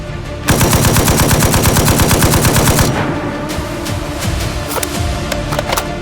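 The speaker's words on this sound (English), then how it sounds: "Open bolt dry fire. Open bolt charging." Open-bolt charging of a firearm: a fast, loud burst of mechanical clacks rattles for about two and a half seconds. A looser metallic clatter and a few sharper clicks follow, close to the microphone with no talk.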